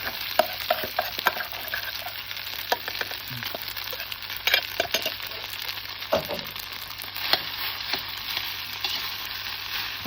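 Rice with Chinese sausage sizzles steadily in a large hot pan while a utensil scrapes and stirs it in irregular strokes, close up, with no talking.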